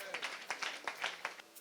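Faint, rhythmic hand clapping from a church congregation in praise, steady beats repeating several times a second with a voice mixed in.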